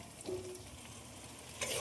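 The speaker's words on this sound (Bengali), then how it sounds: "ভাজার জন্য খুব ভালোভাবে নেড়ে দেবো" Brief sizzle of spices with yogurt, turmeric and salt frying in a pan, with a scrape of stirring and a louder hiss near the end.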